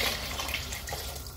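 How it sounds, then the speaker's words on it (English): Water pours into a lamb and spinach curry in a cooking pot, about 700 ml added as the last ingredient. A brief, steady splashing rush is heard up close with no speech. "we are going to add our last ingredients, our 700 milliliters of water."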